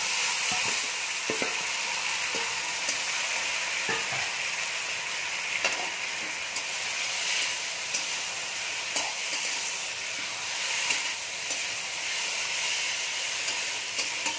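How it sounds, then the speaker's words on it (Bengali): Chicken sautéing in a pan with fried onion and chopped tomato makes a continuous, even sizzle and hiss, with occasional soft stirring knocks throughout. "আমরা ভালো করে কষিয়ে নিই চিকেনটা"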